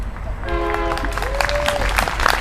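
A train horn sounds at an outdoor rally in San Marcos, Texas, blowing two sustained tonal blasts over a steady background of crowd and ambient noise.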